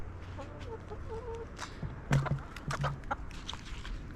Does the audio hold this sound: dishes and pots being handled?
no